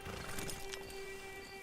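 A horse in the Red Dead Redemption 2 multiplayer beta clip-clops steadily over a constant game-world hum, its hooves soft and moderately close with no one talking.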